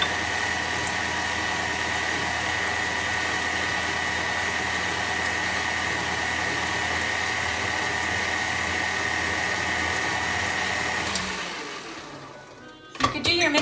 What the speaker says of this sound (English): Just find that KitchenAid super easy and convenient.